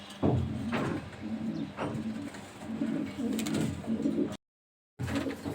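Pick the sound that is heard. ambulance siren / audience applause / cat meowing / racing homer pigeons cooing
racing homer pigeons cooing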